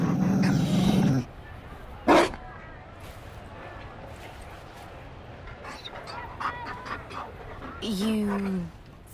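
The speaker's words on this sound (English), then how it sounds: "You found a dog?" A Mabari war dog in the video game Dragon Age: Inquisition pants and growls in short rough bursts over a busy game-world background, with a voice speaking briefly near the start and a loud animal call at the end.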